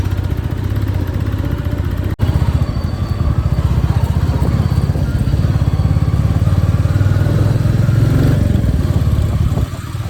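A motorcycle rides along a road near a college campus, its engine a loud, steady, close drone with constant rumble and wind noise throughout.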